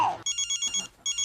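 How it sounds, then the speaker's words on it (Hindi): A telephone rings in short repeated electronic trills, a rapid pulsing pattern with a brief gap before it resumes, close and clear with no talk over it. "बापूजी का फोन, अभी क्या जवाब दूं मैं उनको?"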